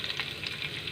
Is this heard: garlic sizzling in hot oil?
yes